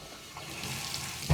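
Water runs from a tap into a bathtub, a faint steady splashing and hiss that swells slightly and ends in a brief louder splash.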